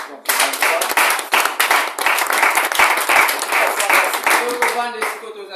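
A church congregation at a youth worship service breaks into loud, dense clapping and applause that runs on steadily, with voices calling out over the clapping before it fades.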